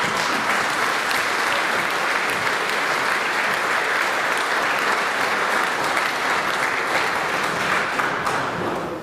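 A theatre audience breaks into dense, sustained applause to welcome a Cuyo folk singer, loud and even from start to finish, briefly tapering right at the end.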